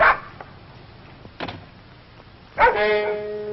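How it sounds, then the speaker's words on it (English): A dog barks a few times in short bursts, with one sharper yelp near the end, heard at moderate distance over a quiet background. "The dog, perhaps."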